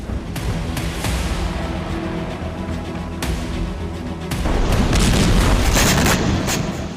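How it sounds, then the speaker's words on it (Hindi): Booming blasts from Hezbollah rocket strikes on an Israeli city rumble in a continuous roar, with sharp thuds and a louder surge of explosions partway through. "जिससे शहर में कई विस्फोट हो गए।"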